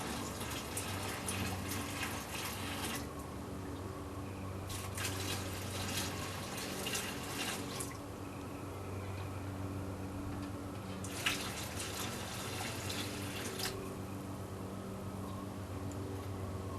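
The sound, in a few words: water being added to a homebrew kettle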